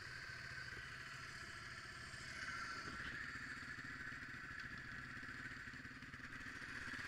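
A Yamaha TW200 motorcycle rides a gravel trail, its mid-pitched engine running steadily with loose clattering from the tires on gravel throughout, fairly close and continuous.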